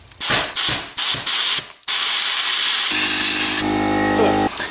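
A compressor-powered sandblaster fires a cheap bagged blasting medium at rusty metal. Several sharp hissing bursts come first, then a long continuous blast, with a low compressor hum joining toward the end.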